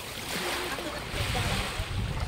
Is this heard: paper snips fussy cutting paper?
no